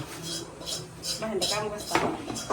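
Dishes and pots are scrubbed by hand at home, making a steady rubbing, scraping clatter of metal ware, with people talking over it.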